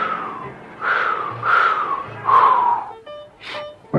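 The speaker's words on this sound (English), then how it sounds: "Maybe if I whistle, I won't be scared." Garfield the cartoon cat tries to whistle, producing a few wavering, breathy, airy notes in rising and falling wails, close and fairly loud, with short pauses between attempts.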